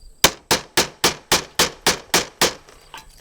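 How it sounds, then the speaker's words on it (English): A hammer drives a sharp chisel into the edge of wood during window installation at a house, nine evenly spaced sharp knocks in a steady rhythm, close and crisp, then a faint trailing tap. "So I'm just hitting the edge of that wood just a little bit."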